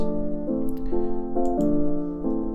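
A soft, sustained keyboard melody moves through a few slow chord-like steps, each note held smoothly and gently, with no voices.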